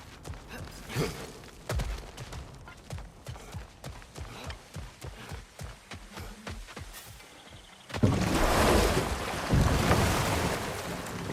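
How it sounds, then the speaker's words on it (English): Flowing water in God of War Ragnarök, a steady wash like surf or rushing current that swells much louder and fuller in the last few seconds, with scattered clicks and footstep-like taps over it. "It's a lot nicer with the water flowing again."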